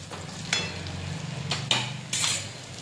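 Dry spices, including red chilli powder, sizzle softly in a pan over a low flame, broken by a few sharp scrapes and clinks of a spoon against the metal.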